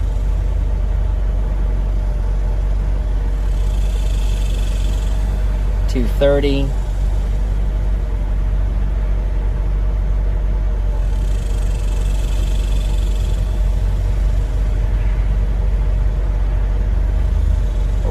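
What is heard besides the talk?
C4 Corvette engine idling with primary cooling fan running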